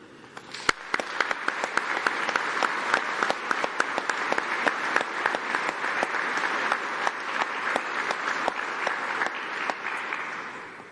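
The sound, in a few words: round of applause and cheering for graduates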